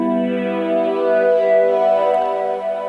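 A sustained synthesizer patch named absinthe holds a rich, harmonically dense chord tone that swells gently and evolves slowly with a chorused, effected sheen, loud and alone.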